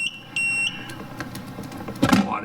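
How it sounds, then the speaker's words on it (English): A power inverter beeps in protest as an overloaded coffee machine draws more wattage than it can supply, a steady high electronic tone broken into short beeps over a low hum and some handling noise. "It's still beeping here. It's not happy at all."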